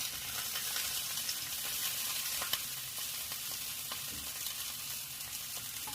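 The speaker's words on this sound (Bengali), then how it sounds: "আমার এটা এবার ভাজা ভাজা হয়ে এসছে।" Food frying in a pan during preparation of a traditional Bengali recipe, a steady close sizzle with occasional stirring clicks, continuous and even throughout with no talking.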